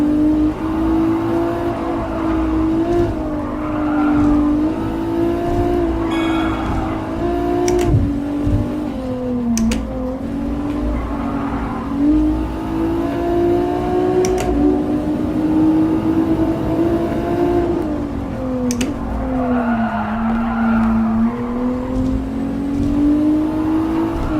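A Nissan GT-R in Gran Turismo Sport, its engine droning loud and close through steady acceleration, rising and falling revs and gear shifts, with faint tyre and wind noise underneath.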